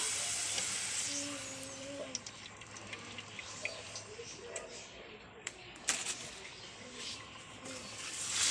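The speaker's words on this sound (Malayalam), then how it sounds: "പപ്പടം വറക്കട്ടെ." Papadum frying in a pan of hot oil in a home kitchen while a Kerala lunch is cooked, giving a faint, thin crackling sizzle with scattered small pops over quiet room background.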